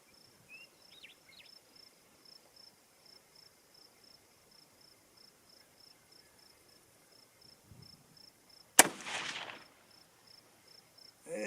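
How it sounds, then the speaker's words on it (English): A single sharp rifle shot from a UPR-15 in 6mm ARC firing 80 grain Sierra bullets, a loud crack followed by a short echo, over a quiet outdoor background of steady chirping crickets. "here we go for shot number 2 of the 80 grain Sierras."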